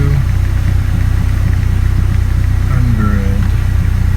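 A Honda Civic EK engine runs with a steady, loud, throbbing drone, with faint sounds over it.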